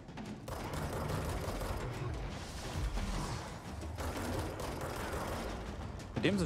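Gunfire from the video game Control sounds as dense, rapid bursts of shots. The shots run almost without a break at a loud, steady level, with mechanical clatter mixed in.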